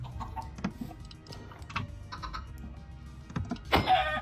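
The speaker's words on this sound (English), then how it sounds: "Oh, chickens." Chickens in the video game Minecraft cluck in scattered short bursts at moderate distance, ending with a louder squawk.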